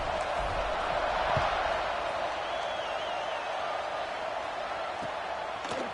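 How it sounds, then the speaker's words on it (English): A college football stadium crowd buzzes after a score, a continuous distant roar of many voices with faint whistles and scattered shouts mixed in. "this crowd is buzzing after that last score"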